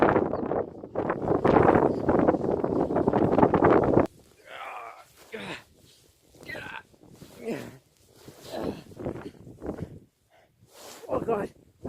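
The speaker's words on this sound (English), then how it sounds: "The wind is just, it's battering me." Strong wind on an exposed hillside roars and buffets the microphone loudly for the first few seconds, then a person talks in short bursts over calmer gusts.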